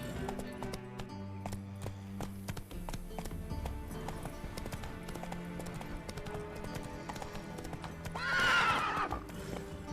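Hoofbeats of the horse Roach from The Witcher video game clip-clop steadily over layered in-game music, with a short whinny rising near the end.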